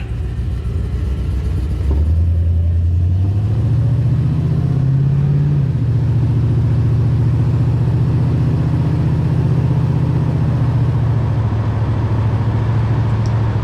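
A 1973 Nova with an LS engine and a TH350 transmission that has no first gear idles, then revs up and holds a steady rumbling drone as it pulls out onto the road, loud and close throughout.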